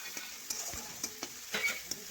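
Chopped tomatoes frying in a pan with turmeric and red chilli powder for a vegetarian cauliflower dish, a low steady sizzle broken by several sharp scraping stirs of a spoon against the pan.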